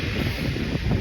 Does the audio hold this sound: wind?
yes